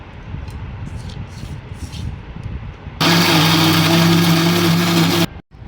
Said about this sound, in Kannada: ಇದನ್ನು ನಾವು ಮಿಕ್ಸಿಗೆ ಹಾಕಿ ಪೇಸ್ಟ್ ಮಾಡೋಣ ಬನ್ನಿ